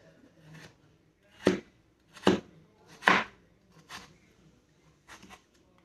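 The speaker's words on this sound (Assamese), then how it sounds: "এই আলু কাটিছোঁ" A knife chops through potatoes in a series of sharp, close thunks, roughly one every second with a softer one at the end. No voice is heard.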